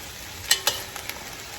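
Vegetables cook in oil in a pan for Japanese curry, a soft steady sizzle broken by two or three quick clinks of a utensil against the pan.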